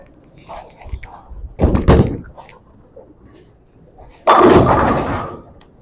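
A Storm IQ Tour 78U urethane bowling ball is thrown, a loud thud as it lands near 1.7 seconds, then a heavy rolling crash of pins around 4.3 seconds that rings out for over a second.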